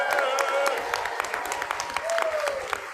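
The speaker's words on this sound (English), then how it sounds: "So let's give a big cheer for our First Lady." A banquet audience at a national convention cheers and applauds, dense continuous clapping with whoops throughout, while a voice speaks faintly underneath.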